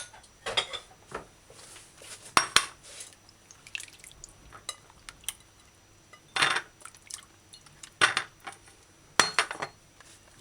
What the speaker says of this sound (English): I'm just gonna give these vegetables a final rinse.